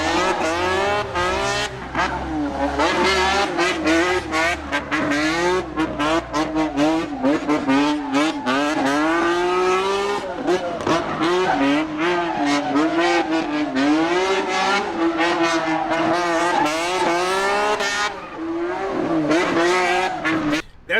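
A BMW E30 proto drift car howls at high revs nonstop, its engine note rising and falling with each throttle blip and gear shift amid tire squeal, loud and close with no talk.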